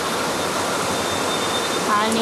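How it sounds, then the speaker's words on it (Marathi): Heavy monsoon rain on a dark, flooded street pours as a dense, steady hiss, loud and unbroken, with a brief word spoken near the end. "आणि पावसाचा आवाज तुम्हाला येतच असते"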